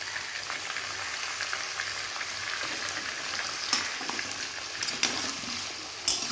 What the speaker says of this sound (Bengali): মশলাটাকে দিয়ে একটু কষাবো